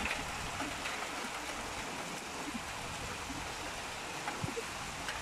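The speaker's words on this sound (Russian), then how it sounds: "Уважаемый дождик с тучкой. Свет можно вернуть? Так прям лейте, пожалуйста." Heavy rain with very large drops pours down outside a balcony under a dark sky, making a steady, dense hiss that fills the whole stretch with no talking.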